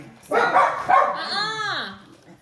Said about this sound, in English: I think they're barking at the saw